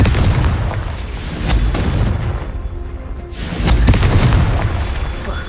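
A Confringo fire spell explodes in the video game Hogwarts Legacy with loud, booming blasts and crackling bursts in quick succession over a rumbling game soundscape.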